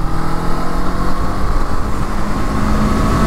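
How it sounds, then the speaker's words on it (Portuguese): Kawasaki Eliminator 500 motorcycle riding on a highway, its engine droning steadily and loud under strong wind rush, with no talk. "a hora que eu precisar dar a mão, que eu precisar esticar a moto, é só puxar o acelerador, pessoal"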